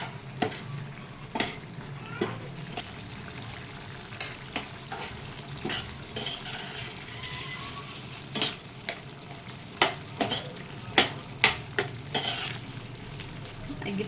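Tomatoes fry in a pan for pappu curry, a steady soft sizzle under repeated sharp scrapes and clinks of a spoon stirring against the pan, close by with no talking.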